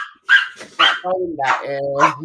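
Dog barking indoors in a room, a couple of sharp barks followed by whiny yips, close and loud, with a voice speaking briefly.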